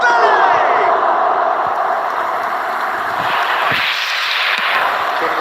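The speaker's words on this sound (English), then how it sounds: "there's a real sense that the momentum has shifted here, Peter, and the crowd are" Crowd in an eFootball match roaring and cheering, a broad swelling wash of stadium noise that stays loud throughout, with no commentary over it.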